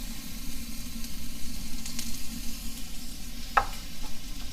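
Celery and carrots sizzle steadily in a hot pan as vegetables for Filipino pancit cook, with a continuous close frying hiss, faint stirring scrapes and one brief sharp clink near the end.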